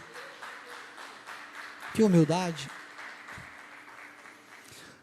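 A church congregation claps for a pastor, a soft patter of applause running under a voice that speaks briefly in the middle.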